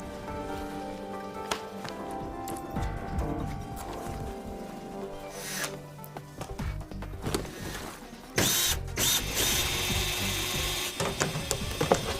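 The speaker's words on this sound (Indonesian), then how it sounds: "Tapi suara bor yang keras membuat polisi merasa curiga." A power drill grinds loudly in bursts against a busy background of clatter and noise, growing harsher and louder toward the end.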